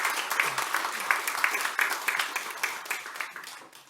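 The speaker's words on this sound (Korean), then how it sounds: "우리 경외 박수하겠습니다" A church congregation at a Sunday joint worship service applauds after a combined choir performance, a lively burst of many hands clapping with sharp individual claps standing out, slowly tapering.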